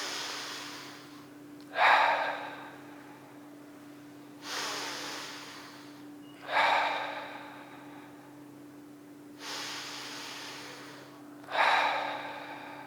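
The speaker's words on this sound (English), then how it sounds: "a deep breath in through the nose and out through the mouth, getting the belly rising and falling with your breath" Deep belly breathing, drawing air in through the nose and releasing it out through the mouth, repeats in slow, even cycles of about two and a half seconds. Each exhale rises as a soft, close rush of air over a steady low hum.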